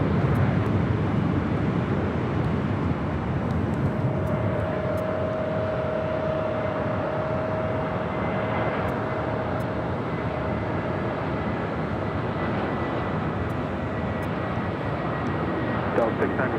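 A Delta airliner takes off from runway 24 left at Los Angeles airport with a loud, steady, broadband engine roar that holds throughout. Voices can be heard faintly under the noise.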